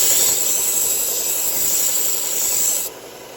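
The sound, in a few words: knife burr lightly refined on 1x30 sharpening belt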